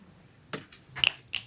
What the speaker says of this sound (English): Don't forget to snap or clap for each person.